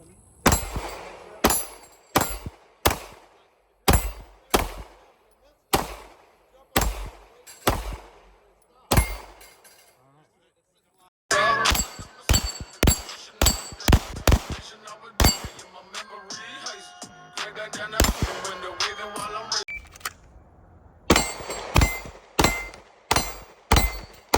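Gunshots ring out at steel shooting targets during competitive shooting, a long series of sharp cracks in quick rhythmic bursts, some followed by metallic clangs, with a short pause midway before rapid fire resumes.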